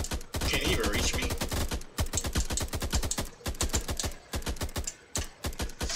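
Rapid bursts of gunfire in the video game Mr. Jones: Retribution, sharp repeated shots in quick clattering runs with short pauses between volleys, loud and close.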